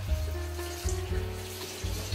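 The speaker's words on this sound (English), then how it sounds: "We're removing all this salt that we added in the past few days." Cold tap water runs steadily over salted curing meat as it is rinsed, a close continuous splashing and rushing stream with small shifts as the meat moves under the flow.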